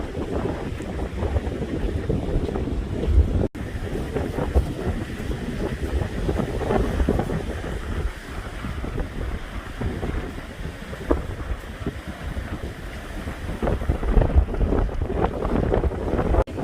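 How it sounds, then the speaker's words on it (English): Strong wind buffets the microphone with a steady roar over breaking surf at Tigertail Beach on Marco Island, Florida, the gusty rumble continuous and loud throughout with no talking. "the waves are being messed up because of all the wind"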